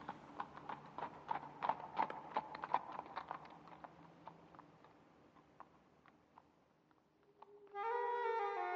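Horse hooves clip-clop in a quick run that slows and fades, then a sustained musical tone rises at the end, a radio-play sound effect.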